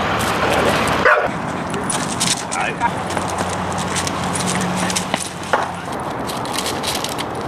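A reactive dog barks and whimpers at another dog outdoors, sharp yips and higher whines breaking through constant voices and background noise over several seconds.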